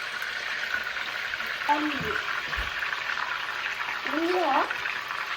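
Onions frying in a hot pan for cheesy tomato pasta, a steady bright sizzle running throughout while someone speaks briefly twice over it.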